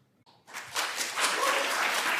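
Audience applause breaking out in a Senate hearing room, starting sparse and quickly building into steady clapping from a crowd that continues to the end.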